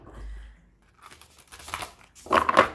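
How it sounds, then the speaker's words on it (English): Stiff tarot cards rustle and flick as they are shuffled up close, in short crisp bursts with a louder riffle at the end. "These cards are a little difficult to shuffle"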